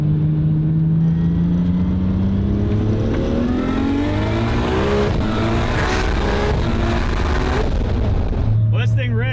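An 1100hp Nissan R32 GT-R accelerates hard at a Powercruise event in Sydney, its loud engine note climbing steadily through a long pull, heard from inside the car with voices talking over the roar.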